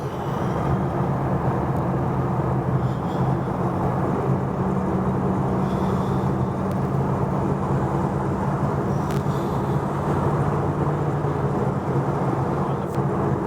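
A 1934 Ford Coupe cruising down the freeway at about 55 mph, heard from inside as a steady, loud engine drone and road rumble that holds level throughout with no talking.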